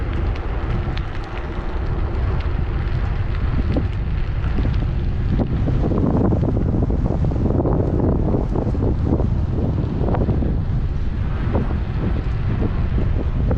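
Headwind roars and buffets the microphone on an outdoor bike ride, a loud continuous rushing that swells and gusts throughout with no talking.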